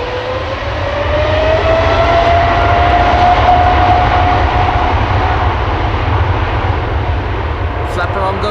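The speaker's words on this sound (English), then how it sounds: "That's a 777 freighter going to go to Doha, flight 8202." A Boeing 777 freighter bound for Doha, six years old, roars steadily through its takeoff with a loud, broad engine rumble and a rising whine, close and sustained throughout at Amsterdam Schiphol Airport.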